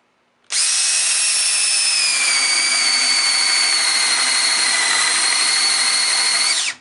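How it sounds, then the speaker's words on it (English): A Makita power drill with a 5/8 bit whines steadily at high pitch as it bores through hard oak, continuous and loud for several seconds, close by. "I'm going to drill a hole with my 5/8 bit"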